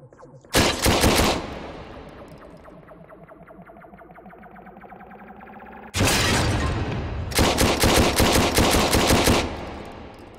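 Two loud bursts of rapid, crackling blasts from a bomb explosion in a video game erupt, separated by a quieter stretch of rattling, metallic rumble; harsh and synthetic-sounding.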